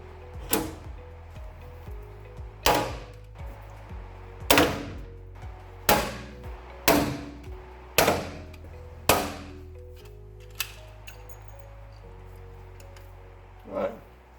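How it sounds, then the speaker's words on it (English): A heat shield plate is riveted in a workshop with about eight sharp, ringing hammer blows spaced a second or so apart. A few fainter taps follow as the work finishes. "Now I need to rivet the plate on."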